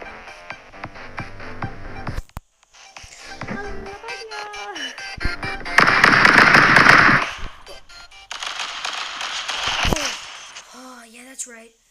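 Bursts of cartoonish gunfire from the Stick Fight video game crackle in quick volleys and single pops, mixed with other game noises, while a player talks over the action.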